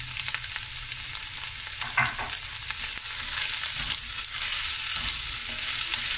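Chopped onions and two dry chilies fry toward browning in a pot for a cauliflower and cabbage stew, a constant bright sizzle with a few stirring knocks, swelling louder midway and holding steady, no talk.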